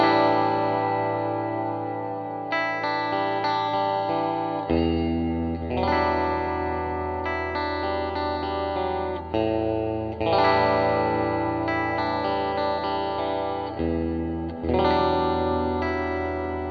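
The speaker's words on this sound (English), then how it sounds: "the Hall gets very, very long, but you'll notice that the tail is still absolutely beautiful and pristine sounding" Electric guitar played through a TC Electronic Hall of Fame pedal set to a very long hall reverb, sustained chords with smooth washy tails blooming and overlapping between strums, loud and steady with no talk.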